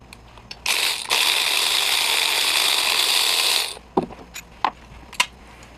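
Bolt being removed from a VW Passat / Audi A4 clutch fan bearing with a ratcheting tool, a sustained three-second burst of rapid ratchet clicking up close, then a few separate sharp clicks and knocks.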